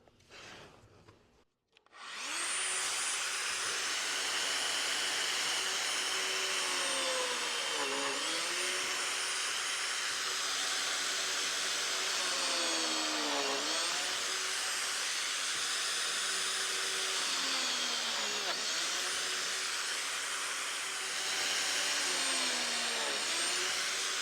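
A Lamello Classic X cordless biscuit joiner cuts slots into wood, its motor spinning up to a loud, steady high whine with repeated dips and rises as each slot is plunged, continuing alone throughout.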